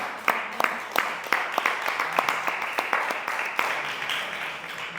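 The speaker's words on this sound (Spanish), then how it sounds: "aplauso a todo el mundo que vino hoy con su vida." Scattered audience applause at a friendship talk in a community venue, a loose mix of individual claps over a roomy wash, some sharp separate hand claps standing out, with faint voices underneath.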